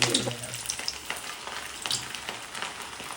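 Fish frying in a pan at home with garlic and ginger, a steady broadband sizzle with crackling pops and a few scraping touches, close and moderately loud throughout.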